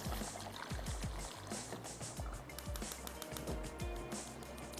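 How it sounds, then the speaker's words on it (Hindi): Water poured from a cup into a pot of half-cooked mutton for aab gosht, a steady liquid splash and gurgle with low bubbling thumps throughout, close and moderately loud. "पानी ऐड कर देते हैं"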